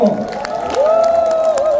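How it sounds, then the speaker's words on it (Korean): Audience at a Gwangju citizens' talk concert applauding as lawmakers are welcomed, a continuous moderate patter of clapping and crowd murmur, with a sustained musical tone running underneath. "여러분 뜨거운 박수를 맞이해주십시오."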